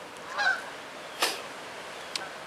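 Geese honk as they fly overhead, with about three separate calls in 2.5 seconds, one a doubled honk and a fainter one at the end, carrying moderately far against a quiet outdoor background. No one speaks.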